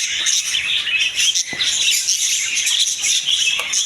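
Dense, continuous chirping and twittering of many small birds, close and busy, like a flock of budgerigars chattering together.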